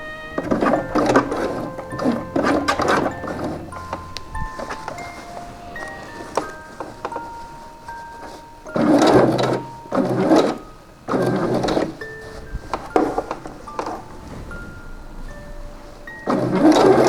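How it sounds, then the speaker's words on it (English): A sewing machine top stitches a folded shirt cuff in several short bursts of mechanical whirring, separated by pauses, with a soft background tone running underneath. "Now the cuff is folded over the seam allowance. It will get top stitched."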